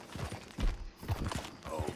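Horse hooves clip-clopping in Red Dead Redemption 2, a run of distinct, close hoof strikes in an uneven walking rhythm, with faint game ambience underneath.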